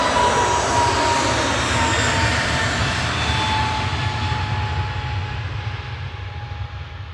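EasyJet airliner departing Manchester Airport, a loud broad roar of jet engines that holds steady and begins fading as the plane climbs away, with no talk.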